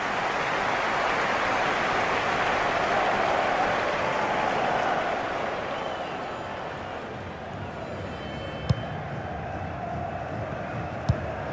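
Stadium crowd noise from a FIFA 18 simulated club friendly between FC St. Gallen and AZ Alkmaar, a steady broad roar of jeering fans that swells early then eases slightly, with a couple of sharp clicks near the end.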